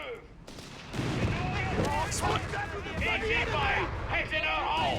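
Anti-tank guns fire in a Company of Heroes 3 battle, a cluster of booming shots and battle noise running under a caster's excited commentary throughout.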